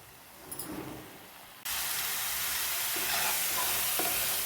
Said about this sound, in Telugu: ఈ ఉల్లిపాయ వేగిపోయింది ఫ్రెండ్స్ చూడండి ఆయిల్ బయటకు వచ్చేస్తుంది కదా